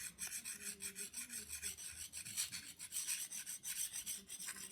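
A knife blade is sharpened in small circles at a slight angle on a wet whetstone, giving a steady, quiet, rhythmic rasping scrape repeated several times per second, close and alone.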